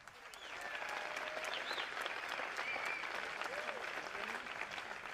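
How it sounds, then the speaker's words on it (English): A crowd at a boxing match applauds steadily for several seconds, a dense patter of clapping with faint whistles and cheers mixed in. "give them a big round of applause"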